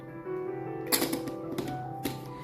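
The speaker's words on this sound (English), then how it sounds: "Try to card shuffle this if we can." A deck of board game cards riffle-shuffled, giving quick crisp clattering bursts of flicks against a steady low tonal hum, with a few shorter ruffles following the first.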